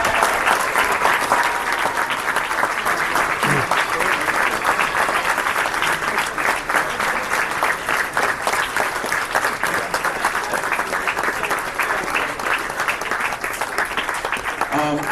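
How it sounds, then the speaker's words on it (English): Steady, loud applause from a large audience at a convention closing ceremony fills the whole stretch, a dense continuous clapping with murmured crowd voices mixed underneath. "please everyone else give them a round of applause"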